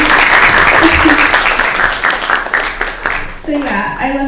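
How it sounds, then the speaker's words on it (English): An audience gives a loud round of applause after a Kathak dance debut performance, clapping dense at first and then thinning out as a voice begins speaking over it near the end. "But big round of applause to Kieran as well."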